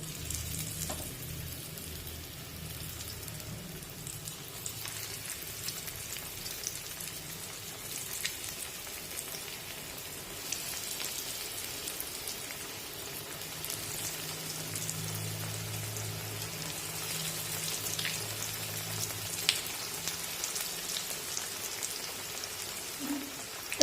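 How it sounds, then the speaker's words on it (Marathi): Cabbage vadis frying in hot oil over a medium flame, a steady soft sizzle and crackle like light rain that continues evenly throughout, quiet and close. "मध्यम आचेवर या सर्व वड्या तळून घ्यायच्यात"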